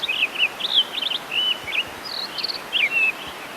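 A mountain songbird, a finch-like singer with some robin-like notes, delivers a rapid series of clear, high chirps and warbled phrases in short bursts. The song sounds close and crisp over a quiet natural background.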